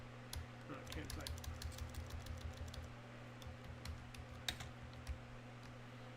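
Keys clack in quick, uneven bursts on a computer keyboard, close by and fairly quiet over a steady low electrical hum, with a couple of sharper taps near the end.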